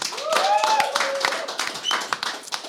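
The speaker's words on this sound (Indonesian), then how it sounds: "Tepuk tangan teman-teman" A small studio audience on a sports talk show claps to thank a guest, with a quick burst of scattered claps mixed with voices and lively chatter.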